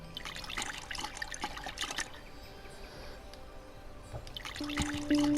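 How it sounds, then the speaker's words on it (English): In the video game Dreams, a filled watering can sprinkles water on a garden spot, giving soft trickling and splashing bursts, near and fairly quiet, with a faint tone at the end. "Use item, filled watering can. You sprinkle water on the spot."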